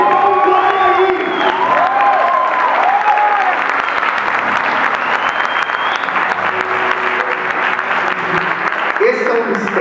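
Loud, sustained applause from a church congregation fills the space, with scattered cheers and whoops and voices calling out over the clapping throughout.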